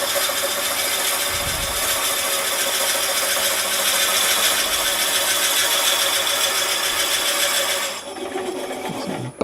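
Wood lathe spinning a yarn bowl blank while a tool digs out its deep hollow, a loud, steady, high whine with a rough cutting rasp that cuts off sharply near the end.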